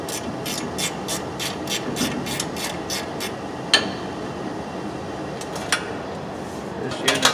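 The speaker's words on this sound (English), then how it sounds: "Now we're going to remove the old fuel pump from the mounting" Metal tool work on the old fuel pump and its mounting bracket on an MF 300 combine: a run of rapid, evenly spaced clicks or taps, then a few sharper isolated knocks and scrapes over steady shop background noise, close by.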